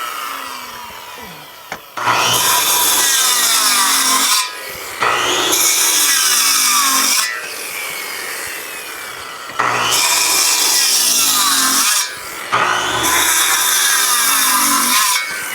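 Wood rafter pockets cut with a power saw guided by a dovetail jig: four loud, rasping cutting passes, each running a couple of seconds, with short pauses between them and no talking.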